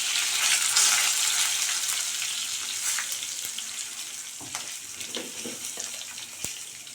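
Dried red chillies and curry leaves frying in hot oil for a Tamil mor kuzhambu, a steady bright sizzle that slowly fades, with a few small clinks and stirring sounds and no talk.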